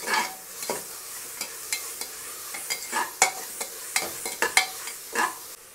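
Ginger garlic paste sautéing in a pan for biryani, soft sizzling under repeated scraping strokes of a spoon, close and moderately loud, with no talking.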